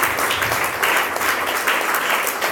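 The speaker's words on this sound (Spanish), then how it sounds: "Dale fuerte aplauso al Señor" A church congregation at a Spanish-language Christian service breaks into loud, sustained applause, dense steady clapping filling the whole moment without pause.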